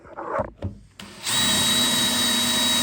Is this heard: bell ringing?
no